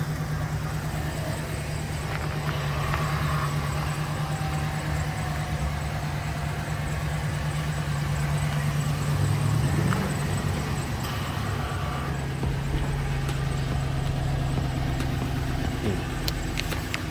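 LS-engined pickup truck idling after start-up, a steady low rumble holding at a constant pitch for the whole stretch with a faint ambient hiss over it.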